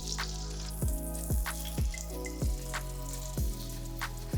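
Beef frying in melted butter with thyme makes a steady close sizzle, with regular soft drip-like pops about every half second and no voices.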